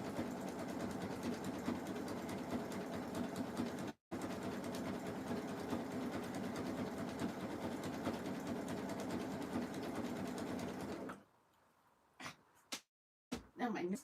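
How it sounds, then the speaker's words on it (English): A sewing machine runs a continuous straight stitch through a jelly roll fabric rug, a steady close whir with a quick break before it stops, followed by a few short handling noises and pauses. "straight stitch to start the thread again. Back and forth a few times here."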